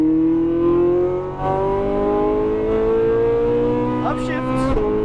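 Ferrari 458 Italia supercar accelerating out of a corner on a race track, its engine note rising steadily and loud throughout, with a quick upshift near the end and talk over the engine.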